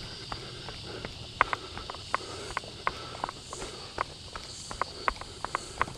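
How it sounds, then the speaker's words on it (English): Cicadas buzz in a steady high drone while footsteps crunch rhythmically close by as a runner moves along a bush trail during the 50k Brisbane Water Bush Bash ultramarathon. "Can hear the cicadas going crazy."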